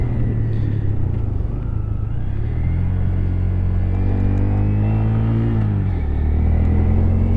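A 2023 Honda Grom mini motorcycle being ridden, its small engine droning loud and close, with the pitch rising and falling as the throttle changes, and no speech.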